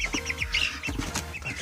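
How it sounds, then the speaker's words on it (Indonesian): A one-month-old female rawang chick clucks and peeps in quick, close bursts, several short calls running one after another over a low background hum. "Itu ayam rawang 1 bulan cewek"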